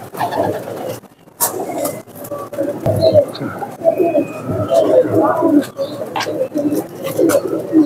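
Teddy pigeons coo steadily in a close, busy chorus of low, throaty calls, mixed with faint wing flutters and scuffles, with no talk over them.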